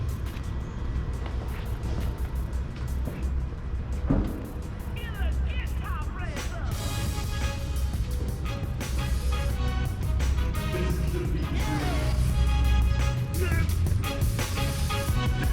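A cold car engine fires up indoors and idles high, then revs out with rising and falling surges that echo around the room, while people talk over it.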